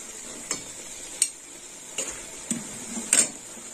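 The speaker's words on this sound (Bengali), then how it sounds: "এই মশলাটা দেওয়ার পর আর একটু কষে নেব।" Spiced prawn masala sautéing in a pan, with a low steady sizzle behind five or six distinct spatula scrapes and clinks against the metal at irregular intervals.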